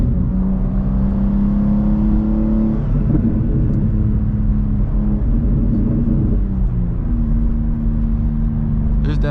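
A BMW M2 driven on the road, recorded with microphones near the exhaust and intake, gives a loud continuous engine drone whose pitch holds, steps and shifts as it pulls through the gears, with rumble throughout.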